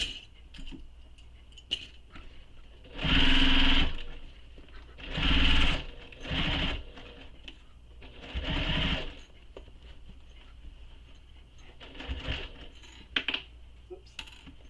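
A sewing machine stitches a leather satchel in short separate bursts, several quick whirring runs with pauses between, close and clear, plus small clicks while working slowly around a curve.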